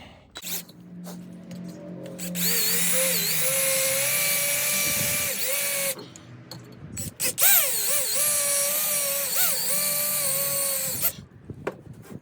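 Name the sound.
power drill drilling out spot welds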